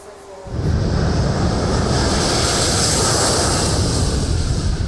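Military jet roaring past, a broad loud rushing roar that swells in abruptly after a quiet start and holds steady and close throughout.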